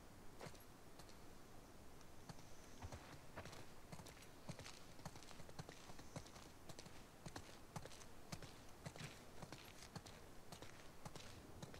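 Horse hooves clip-clopping in The Last of Us Part II video game, a steady, even stream of faint, crisp hoof strikes that continues throughout with no talk.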